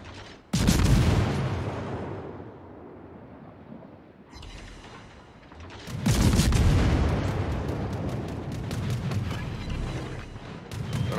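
Heavy naval guns of a warship firing in World of Warships, two loud booming salvos a few seconds apart, each with a long rolling rumble that decays slowly, no talking.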